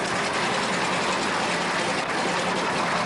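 Mercury radial engine of a Westland Lysander aircraft running steadily just after start, a loud, dense and continuous roar with no voices over it.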